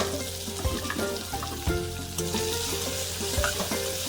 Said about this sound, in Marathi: तेल छान तापलं जिरे मोहरी चांगली तडकली